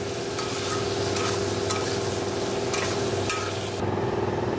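Fish curry with salt, turmeric and a little sugar stirred in a hot pan, a loud close sizzle with regular scraping strokes of a spatula until the frying sound abruptly thins near the end.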